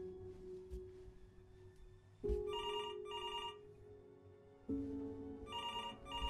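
A telephone rings in the video game Before Your Eyes, sounding in repeated bursts of a bright electronic ring over a low steady hum, with no one speaking.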